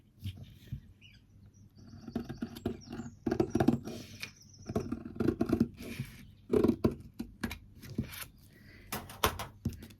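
Scissors snip through quilting fabric on a worktable, giving a run of crisp, close cuts and rustling cloth at irregular intervals, with no talk.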